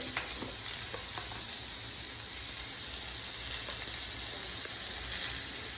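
Onions sautéing with a pinch of salt in a pan for kadalai curry: a steady, continuous sizzle with a few faint clicks of stirring, moderately quiet and close, with no talking.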